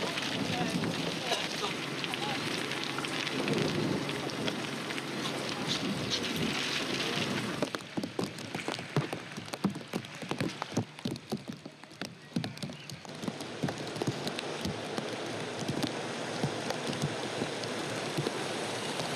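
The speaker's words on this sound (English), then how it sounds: "I'm glad it's raining." Rain falling on an outdoor film set, a steady dense hiss throughout with gusty rumbling and bursts of closer patter in the second half, no clear talk.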